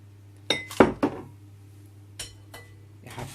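A metal pot is picked up and handled, giving a few sharp, close clinks and knocks in quick succession, then softer scrapes after a pause in a quiet room.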